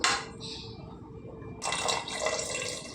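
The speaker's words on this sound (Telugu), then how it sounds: "ఇంకొద్ది వేస్తానండి నీళ్ళు సరిపోవలేదు" Water poured from a glass into a pot of mutton curry cooking on the stove, a brief trickle at first, then a steady, fairly close splashing pour that fills the second half.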